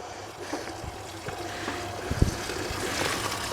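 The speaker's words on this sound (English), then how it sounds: "We're just gonna kind of give a little flush to the system here." Water from a hose rushing and trickling through the cooling system of a Chevrolet Tahoe engine during a water pump replacement, a steady close splashing flow with small knocks and clunks.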